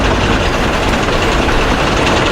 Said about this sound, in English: Bear was quickly coupled up, and the two diesels set off for the other railway.